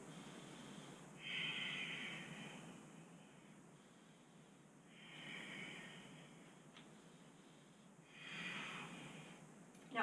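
Slow deep breathing while holding a plank pose in an arms and core workout, three faint hissing exhales spaced evenly a few seconds apart over low background noise.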